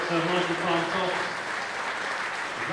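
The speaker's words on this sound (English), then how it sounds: "The crowd quite rightly show their appreciation." Crowd at a Poole Pirates versus Plymouth Gladiators Championship speedway meeting applauding steadily, with a commentator's voice running over the clapping throughout.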